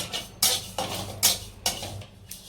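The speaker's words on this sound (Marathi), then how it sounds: "आता आपण जिरे घेतले आहे, ते जिरे व्यवस्थित भाजून घ्यायचे आहेत।" Cumin seeds dry-roasting in a pan, where a spoon stirs and scrapes against the metal in several short, distinct strokes at close range in an otherwise quiet kitchen.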